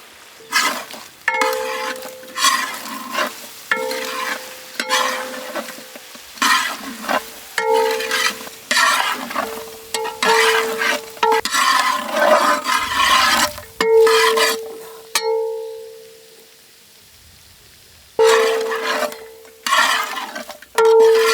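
Chicken feet fry with masala, ginger and garlic in a pan, a spatula scraping and stirring in steady rhythmic strokes over a constant sizzle, pausing briefly near the end before stirring resumes.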